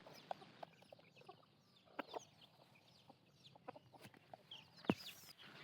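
Farm chickens cluck quietly in a poultry shed, with scattered short clucks and a few sharper calls over a low, faint background.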